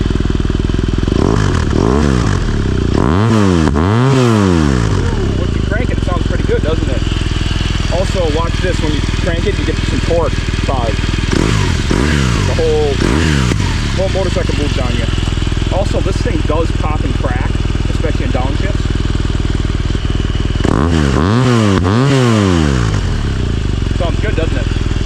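A 2016 BMW R1200R motorcycle engine runs steadily through its exhaust, idling with a low rumble and a few brief revs, loud and close.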